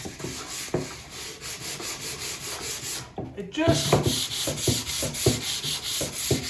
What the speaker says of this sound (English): I like to hand sand right before I finish.